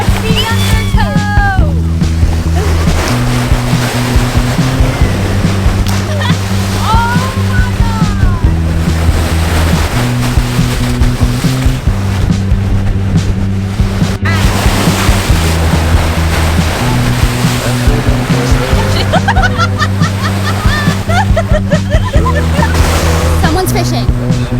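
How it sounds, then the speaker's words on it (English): Ocean surf rolls in at a Jersey shore beach, a continuous loud wash of breaking waves close by, mixed with a steady rhythmic musical backing. "Waves are pushing me around."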